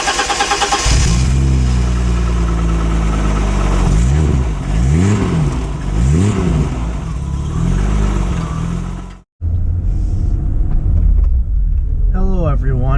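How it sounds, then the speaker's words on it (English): A 1987 BMW 325e six-cylinder engine cold-starting, its loud steady idle running on with rising and falling revs, then a brief dropout before the motor continues, with a few faint sounds near the end. "This is a cold startup on the 1987 BMW 325e."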